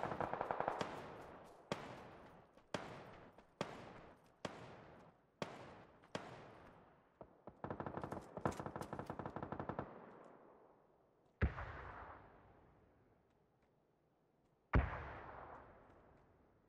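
Gunfire in the video game PUBG echoes from a nearby compound: a run of single sharp shots about a second apart, a rapid automatic burst, then two more isolated loud reports with long decaying tails.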